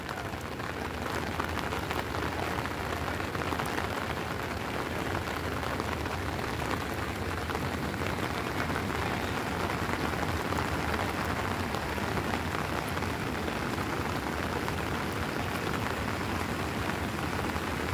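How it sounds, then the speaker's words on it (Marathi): Heavy rain pours down at Diveagar beach in a dense, unbroken hiss that stays loud and even throughout, with no clear voices over it. "फर्स्ट टाइम आम्ही एवढा पावसात आलोय."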